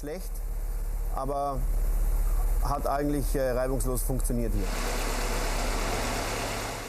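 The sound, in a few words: rally car engine idling after start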